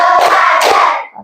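A primary school class in an Indonesian classroom does a rhythmic group clapping routine, with two sharp bursts of many hands clapping together, loud and close, along with shouted voices, then a quick fade.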